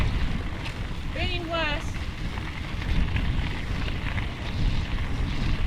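A cyclist's headwind on the Otago Rail Trail produces steady, blustery wind rumble against the microphone that runs throughout, with people talking over it.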